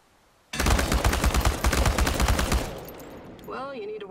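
Rapid automatic rifle fire in the game Chernobylite, aimed at cans on a practice range: one loud, steady burst of close shots lasting about two seconds, then a fading tail and a brief voice.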